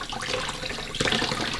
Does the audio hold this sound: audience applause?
no